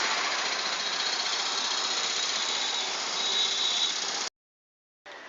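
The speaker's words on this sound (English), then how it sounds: "Great, the bike starts." A motorbike engine started through a smart helmet circuit runs with a steady, loud, hissing roar, then cuts off abruptly before a brief burst resumes.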